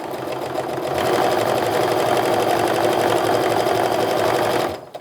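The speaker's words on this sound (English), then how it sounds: "So I'm going to keep on sewing this half together" A sewing machine stitches a quilt block made from fat quarters in one continuous, steady run for several seconds, loud and close, then stops abruptly at the end.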